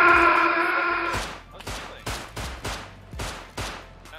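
Gunfire in the video game Rust, heard as a steady high-pitched tone that gives way to a series of loud, echoing single shots at irregular intervals, close and sharp.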